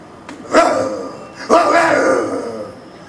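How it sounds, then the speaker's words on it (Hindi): A dog gives two loud barks about a second apart, each followed by a short echoing tail. "एक कुत्ते के भौंकने की आवाज आई"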